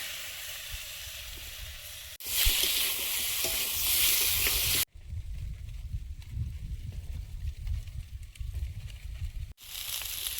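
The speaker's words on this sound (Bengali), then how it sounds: "এবার মাছের তেল আর ডিমটা দিয়ে আর একটু ভেজে নেব।" Fish oil and roe fried with potato and eggplant in a pan. Steady close sizzling and frying hiss fills the pan, with a loud burst when ingredients go in and stirring noises after it, split by sharp cuts.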